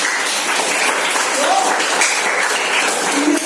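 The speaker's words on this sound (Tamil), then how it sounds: "எப்படி கைத்தட்டலாமே அந்த பாப்பாங்க" An audience claps steadily and densely for a young girl, a loud, continuous burst of applause throughout.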